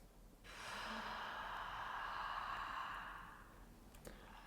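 Spooky soprano FX1 choir effect from the Eric Whittaker Choir library: an airy, sustained high wordless tone swelling in after a moment, holding steady, then fading out with a faint click at the end.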